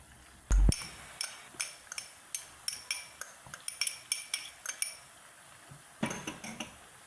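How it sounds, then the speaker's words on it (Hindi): A metal spoon repeatedly scrapes and clinks against a pan while mixing ginger-garlic and green chilli paste for fried qeema, giving a steady series of sharp, close taps in an irregular rhythm with no talking. "इसको भी अच्छी तरह मिक्स कर लेंगे।"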